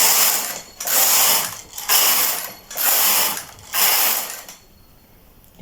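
A knitting machine carriage is pushed back and forth across the needle bed knitting rows, five loud whirring, ratcheting passes with brief pauses between, close up and with no voices.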